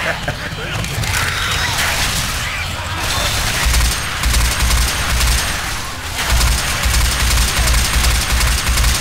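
Gunfire in the Left 4 Dead 2 video game, on a custom map set in Pripyat. Bursts of shots rattle on fairly steadily through the clip, dense and loud, with brief lulls.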